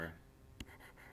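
Writing a single letter by hand, D, during a lesson on speed, time and distance: a faint, brief scratch of a pen stroke, close and quiet, right after a person speaks.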